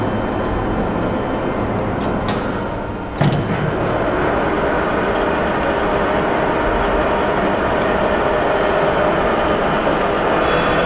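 A TUJ-50 lathe runs in forward rotation, giving a loud, steady broadband mechanical roar with a brief dip and a sharp knock about a third of the way in, then continuing evenly to the end.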